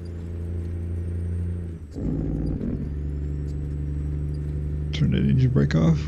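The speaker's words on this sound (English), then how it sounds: "Turn that engine brake off." A tuned Kenworth W900 truck in American Truck Simulator rumbles with a steady low engine drone, briefly dipping and then resuming as the engine brake engages, its deep chugging growing stronger near the end.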